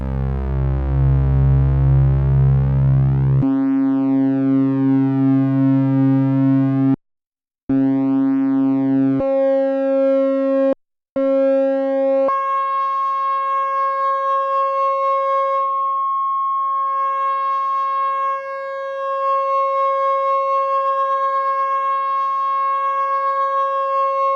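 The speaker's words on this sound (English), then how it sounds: "So we have a sine wave here on oscillator 2." A pure sine tone from the Moog Mother-32 synthesizer's oscillator holding steady pitches that step upward, with short gaps of silence between some notes.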